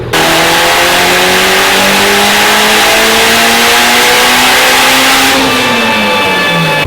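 A Mitsubishi Evo 9 running on ethanol fuel during a dyno pull, its engine revving loud and close in one long rising wail with a steady climb in pitch that eases off near the end.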